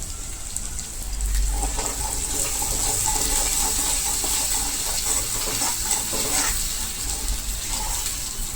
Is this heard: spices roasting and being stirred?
yes